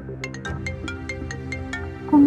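A phone ringtone rings in an office, a repeating electronic melody with evenly spaced bright tones that plays steadily for a couple of seconds, with a louder thump at the end.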